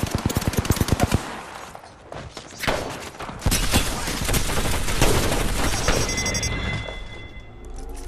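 Rapid automatic gunfire from the video game Apex Legends, a fast burst of shots opening the clip followed by sustained loud, dense bursts of firing and impacts with electronic tones near the end.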